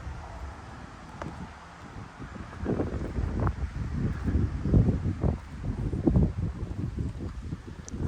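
Breezy wind gusting outside the church in the village of Eyam in the Peak District, buffeting the microphone with low rumbling surges that build after the first couple of seconds, alongside faint rustling.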